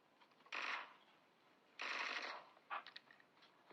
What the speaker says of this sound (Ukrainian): Чуєте, кто стреляет?